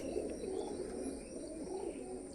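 Pigeons kept for racing give soft, continuous cooing, a faint low burble of several birds overlapping at some distance with no pauses.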